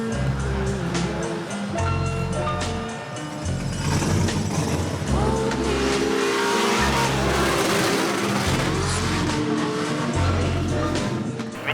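Car drifting and revving at the RabócsiRing race track, with repeated loud engine revs rising and falling in bursts, tire squeal and skidding noise between them, heard close and continuous for about twelve seconds.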